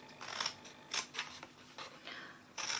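Scissors snip through paper for a homemade sweet box, cutting along the score lines in several short crisp bursts with brief pauses between, close and clear with no talking.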